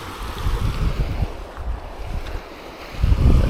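The small Langougnole river, on a hike around Lac d'Issarlès in Ardèche, flows with a steady rushing wash of water, mixed with wind buffeting the microphone, and swells louder toward the end.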